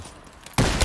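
A single loud, abrupt blast from a Winchester in a Call of Duty zombies game, a burst of broadband noise that hits after a quiet stretch and rings on to the end.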